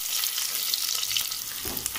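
Steady hissing sizzle of onions frying in a pan, continuous and close, with a brief stirring scrape near the end.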